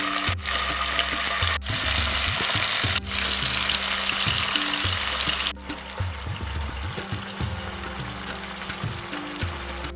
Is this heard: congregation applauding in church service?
no